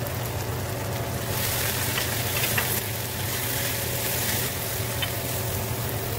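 Carrots for chicken chow mein fry in hot oil, a dense, steady crackling sizzle like heavy rain with faint stirring, close and even throughout, no talking.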